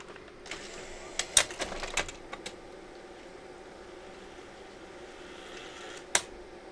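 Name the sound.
Sony BVW65P Betacam SP deck ejecting a tape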